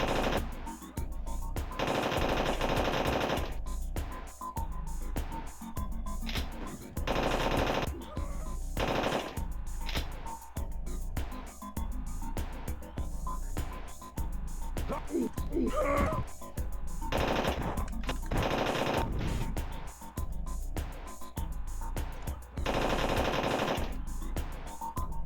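Machine gun fire in a video game rings out in repeated bursts across the whole stretch, loud and close, with rapid crackling volleys separated by brief pauses.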